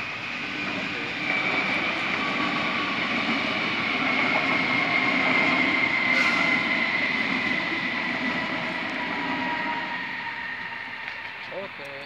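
A long train pulls into Munich Riem station, a steady rolling rumble with a high squealing tone lasting throughout, loud and continuous at platform distance, while people talk over it.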